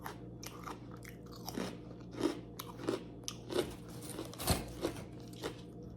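Crunchy jackfruit chips bitten and chewed up close, a series of sharp crisp crunches at an uneven rhythm over quiet mouth sounds, with no talking.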